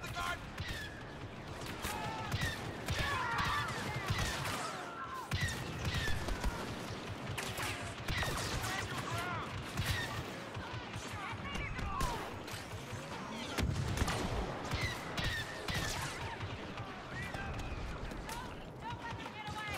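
Blaster-style gunfire crackles through a Star Wars video game battle against Imperials in a garden, steady bursts of shots and impacts layered under constant voices and game chatter for the whole stretch.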